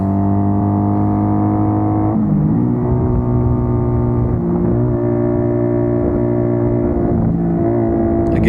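A 1980 Honda CM400 custom scrambler motorcycle engine drones steadily while riding through corners, its pitch dipping and rising as the rider shifts and rolls on and off the throttle, loud and constant throughout.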